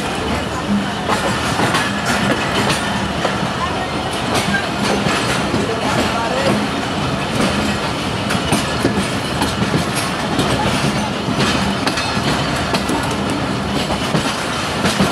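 A train hauled by an HBU-20 locomotive runs on the rails after departing Wazirabad, a loud, dense rumble with rhythmic clickety-clack from the wheels over rail joints, heard from on board and continuous throughout.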